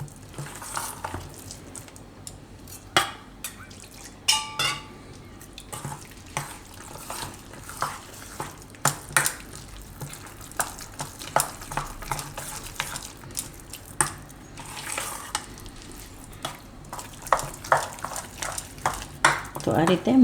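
Soya bean dhokla batter of semolina and sour yogurt is stirred in a bowl, giving soft scraping swirls with scattered clinks of a spoon against the rim, while someone talks over it.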